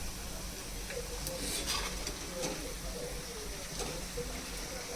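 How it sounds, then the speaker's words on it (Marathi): Sliced onions fry in a pan for biryani, giving a continuous, moderate sizzle with occasional light stirring clinks and a faint voice in the background. "या साईडला आपण आता कांदे जे आहेत ते बरिस्ता करायला म्हणजे फ्राय करायला ठेवलंय"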